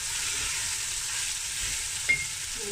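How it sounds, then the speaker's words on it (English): Lamb and beetroot curry sautéing in a well-used pan, a loud, steady close sizzle with a brief clink of a utensil partway through and no talk. "It's just a little bit sauteed, as you can say, a little bit."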